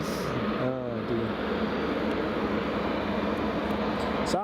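A Saudia Boeing 777 airliner taxiing at Newcastle International Airport, a steady broad engine roar at a distance with a brief tonal whine early on, continuous and unchanging throughout.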